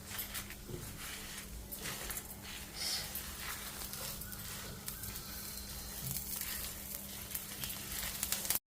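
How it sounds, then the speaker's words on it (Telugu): Dried red chillies, coriander seeds, urad dal and chana dal fry in hot oil for a stuffed brinjal curry, giving a steady, close, continuous sizzle with no talk. "ముందు ఆయిల్ వేసి ఎండుమిరపకాయలు వేయించుకొని తర్వాత ధనియాలు మినప్పప్పు శనగపప్పు వేయాలన్నమాట"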